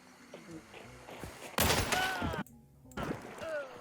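Distant bursts of gunfire crackle in a noisy Hunt: Showdown match, one loud volley in the middle, with a voice talking underneath.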